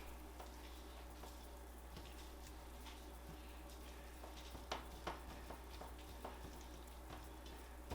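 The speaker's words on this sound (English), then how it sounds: "Bring this pan here and add some ground beef." Ground beef frying in a pan on a stovetop burner while spaghetti sauce is made, a steady soft sizzle with scattered crackles and a few sharper pops and clinks.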